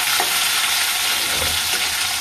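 Prawns fry in a pan with green chilli and nigella seeds, a loud, even hiss of hot oil held close throughout, with a few faint utensil touches and no voices.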